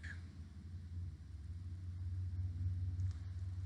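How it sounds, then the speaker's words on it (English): Low, steady car engine rumble from a vehicle sitting stuck in traffic, a faint droning idle close by with no voices. "I am just stuck in traffic."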